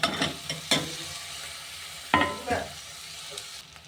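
Bitter gourd being stirred in a hot pan with a soft sizzle, sharp spatula scrapes and clatters landing in irregular bursts, close and fairly quiet with no talk.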